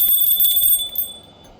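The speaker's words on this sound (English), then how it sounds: "And let's ring the bell." A bell is struck once and rings with a bright, clear metallic tone that slowly fades over a second and a half.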